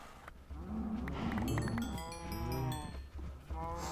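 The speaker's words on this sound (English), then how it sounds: "Let's go kill a cow real quick." A cow in the modded Minecraft Sky Factory 3 moos several times in a row, loud and close, with drawn-out low bellowing calls and no talk over them.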